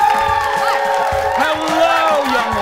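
Studio audience at a daytime talk show cheering, whooping and clapping in a steady, loud wash of crowd noise, with scattered shouts rising above the applause.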